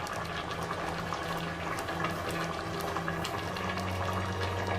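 Quiet, steady bubbling and popping of a seasoned liquid with mixed herbs, salt and pepper simmering in a pot, with a faint low hum underneath.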